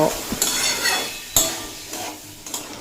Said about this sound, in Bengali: সিদ্ধ করে রাখা ছোলা দিয়ে পর আবারও দুই মিনিট মতো নাড়াচাড়া